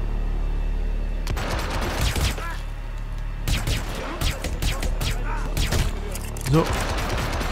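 Bursts of rapid automatic gunfire rattle through a Hitman Absolution firefight, several loud volleys separated by short pauses, with a voice talking in between.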